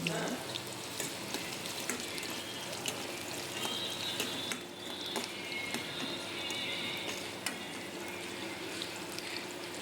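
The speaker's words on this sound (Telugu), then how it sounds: "ఇప్పుడు అదే ఆయిల్లో ఆనియన్స్ వేసి కర్రీ కోసం ప్రిపేర్ చేస్తున్నాం." Onions fry in hot oil for a chicken biryani curry, making a continuous close sizzling hiss with small crackles and pops throughout, with no voices.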